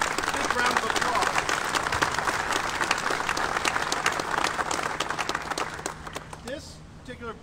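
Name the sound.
rally crowd applause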